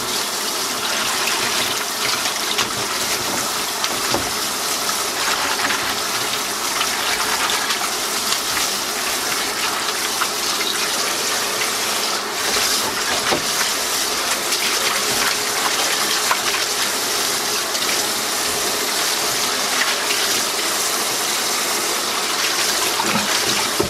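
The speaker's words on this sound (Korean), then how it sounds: "참나물을 씻어줄 건데요." Tap water gushes steadily as chamnamul herbs are rinsed in a sink for a Korean chamnamul geotjeori salad, a continuous close splashing rush with no talking.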